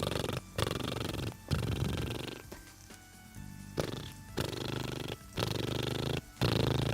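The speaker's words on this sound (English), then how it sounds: "The sound of a cat purring." A cat lying on a lap purrs in a close, soft, rhythmic rumble, each breath cycle broken by short pauses, with no voices.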